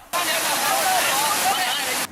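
Floodwater surges through Guangdong, China after heavy rains, a loud steady rushing torrent that starts and stops abruptly, with a voice faintly present underneath.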